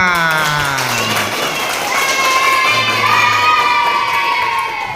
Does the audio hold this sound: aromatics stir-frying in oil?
no